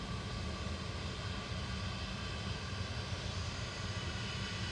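A Ryanair airliner's engines at Manchester Airport keep up a loud, continuous broadband roar, steady and unbroken across the whole stretch with no voices.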